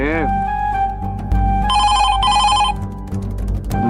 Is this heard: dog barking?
no